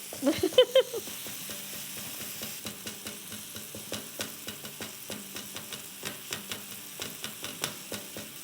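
Tomatoes sauté in a pan for tawa chicken chutney, with a loud sizzle and clatter at the start. Steady frying then runs throughout under repeated rhythmic taps and scrapes as the tomatoes are mashed.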